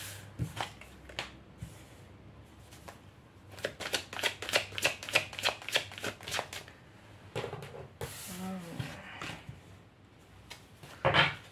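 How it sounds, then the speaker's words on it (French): Tarot cards being shuffled and drawn, with rapid riffling bursts, soft slaps and snaps of cards, close and fairly quiet with no talk. "Je vais tirer toutes les cartes"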